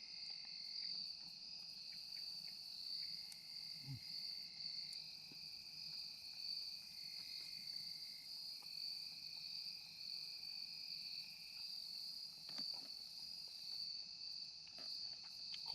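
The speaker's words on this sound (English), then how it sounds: "Cricket's already starting." Crickets chirp steadily at dusk in the woods at an overnight hammock campsite near Land Between the Lakes, a continuous high-pitched trill with a few faint knocks and rustles nearby.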